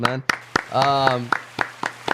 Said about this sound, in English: Go ahead and give them all a round of applause